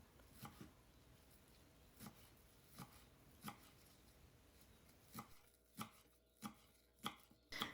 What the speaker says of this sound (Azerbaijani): Yarım dəstə göy soğanı da xırda-xırda doğrayıram.